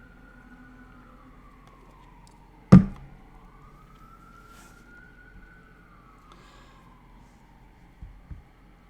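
Ambulance sirens wail through the streets of Portsmouth, Ohio, a faint rising and falling tone sweeping slowly in the distance, broken by one sharp loud knock nearby and a couple of soft thumps near the end.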